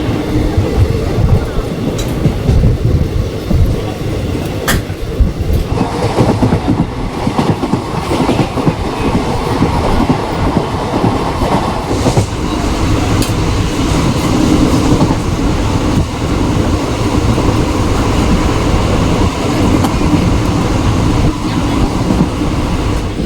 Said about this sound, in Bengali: বহরমপুর কোর্ট স্টেশন থেকে এখন ট্রেন ছেড়ে দিল বন্ধুরা।